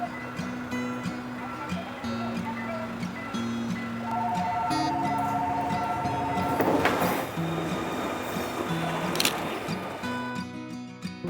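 A train rolls past a railway crossing in Seoul on the Gyeongui-Jungang line, with a steady rumble of wagons and a crossing bell ringing through it, plus a brief horn-like burst midway, heard close and continuous.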